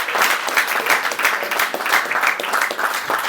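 Enthusiastic applause from the audience at a poetry open mic in Gulbarga, many hands clapping in a dense, loud, continuous patter that stays steady throughout with no voices over it.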